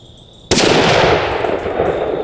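A single loud, close shot from a Remington 700 ADL bolt-action hunting rifle cracks out sharply, then a long rumbling echo trails away outdoors after a quiet lead-in.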